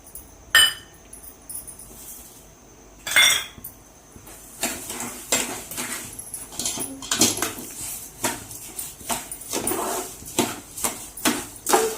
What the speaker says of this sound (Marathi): जोपर्यंत साखरेचा पाक होत नाही तोपर्यंत चमच्याने हलवत राहायचं आहे।